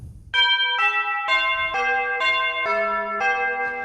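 Electronic keyboard playing a sequence of bell-like notes, each struck clearly and ringing with bright chiming overtones, about seven tones in a slow melody.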